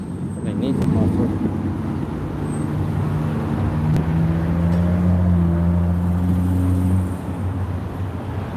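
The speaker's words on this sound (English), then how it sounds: "Oh, that thing's loud too. Somebody needs a muffler." A loud car with no muffler drones past on a busy downtown street during a nighttime weekend block party on 6th Street, its engine tone holding for several seconds over constant traffic and crowd noise before fading.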